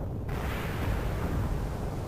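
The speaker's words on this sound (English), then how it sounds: "This explosion is going on for way too long." A prolonged explosion rumbling in the video game Mother 3, a dense, continuous roar that holds steady and loud throughout with no break.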